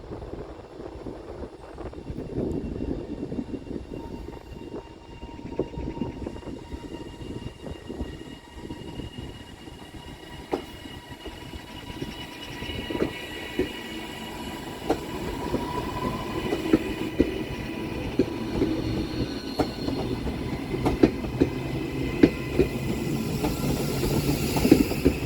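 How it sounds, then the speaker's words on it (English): Transpennine Express train 397012 pulls out of Manchester Piccadilly at rush hour, a long steady rumble of wheels and traction building gradually, with faint clanks and a rising engine whine as it gets under way. "Next train out to depart is 397012, working the 1729 Transpennine Express service from Edinburgh Waverley through to Manchester"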